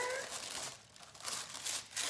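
Pink wrapping paper on a beauty subscription box being unwrapped, close, soft crinkling and light tearing in short bursts.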